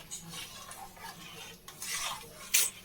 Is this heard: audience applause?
no